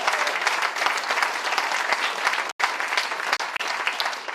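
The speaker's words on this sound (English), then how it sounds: "Can we have a round of applause for long-term care?" An audience breaks into loud, dense applause that continues steadily, briefly cutting out once before resuming.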